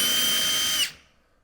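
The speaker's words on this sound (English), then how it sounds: "I'm just going to drill this right in place." A power drill whirs steadily for under a second while driving into a tool cart drawer slide, then cuts off abruptly and spins down to quiet.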